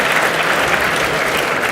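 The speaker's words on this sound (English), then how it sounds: "so huge round of applause" Loud, steady applause from an audience following startup pitches at a university venture competition, a dense wash of clapping throughout.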